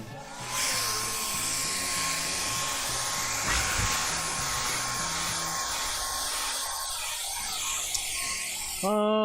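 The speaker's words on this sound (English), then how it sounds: "let's blow dry this and keep going" A hair dryer blows steadily and loudly on a wet cactus painting, a close continuous roaring hiss that runs the whole time and cuts off with a rising tone at the end.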